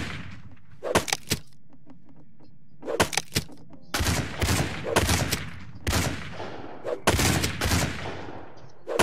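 Hand cannon fire in the video game Rust: loud, sharp gunshots in irregular bursts, some single and some in quick clusters, with quieter game ambience between them.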